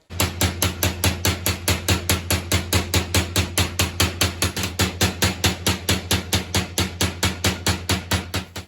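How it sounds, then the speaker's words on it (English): Steady, evenly spaced metallic hammer blows ring out on sheet metal, about four strikes per second, loud and close with no talking. "I'm trying to keep very consistent with my hammer blows"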